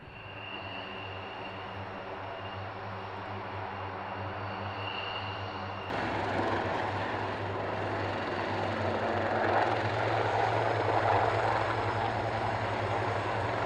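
A light aircraft flying near an airfield, a steady droning engine hum with a constant low tone, slightly louder and fuller in the second half, no talk.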